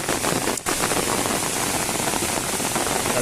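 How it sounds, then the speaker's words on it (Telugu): Heavy rain pours down at night during a crab-hunting trip by the water, a dense, steady hiss of drops close to the microphone with a brief dip partway through. "ఓహో వర్షం బాగా వస్తుంది యారా."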